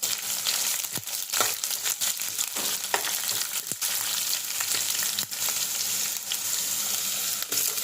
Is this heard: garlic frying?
yes